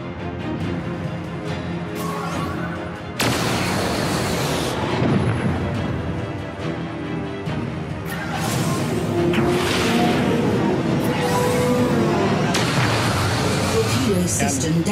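Starship weapons fire and torpedo explosions in the space combat game Into the Stars, with sudden booming bursts and whooshing blasts repeated through the stretch, loud and close, with a voice talking over the combat.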